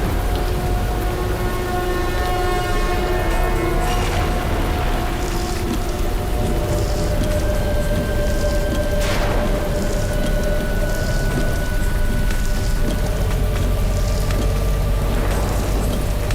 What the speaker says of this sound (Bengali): কি জোরে বৃষ্টি পড়ছে এখানে।